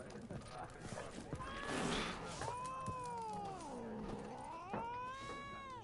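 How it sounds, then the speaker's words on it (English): A cat in The Witcher 3 meows in long, drawn-out, wavering cries, fairly close and loud over quieter game sounds and background speech. "Okay, that is a cat."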